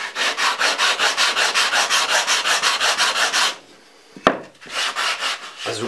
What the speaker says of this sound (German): ach, hier hatte ich noch nicht geschliffen